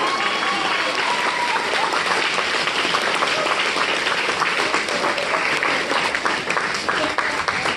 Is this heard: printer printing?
no